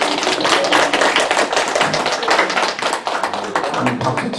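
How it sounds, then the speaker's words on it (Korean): A church congregation bursts into dense, sustained applause during a Sunday worship service, many hands clapping loudly and evenly close by, with no break across the whole stretch. "박수 치자 소리도 안 했는데 벌써 저절로 나와요"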